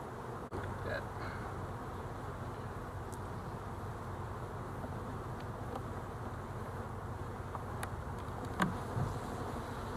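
A continuous low hum of honeybees buzzing around a quarter box of bees, soft and steady throughout with no talk.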